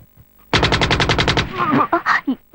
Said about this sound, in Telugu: తుపాకీ తుపాకీ.